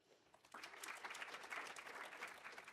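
An audience at a pitch event bursts into applause after a brief near-silence. The clapping is dense and steady and carries on to the end, sounding somewhat distant and soft.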